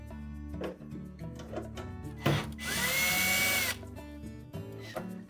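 Power drill backing out the single screw that secures the control panel to the frame of an LG washer, a loud steady whir lasting about a second and a half amid other workshop noise.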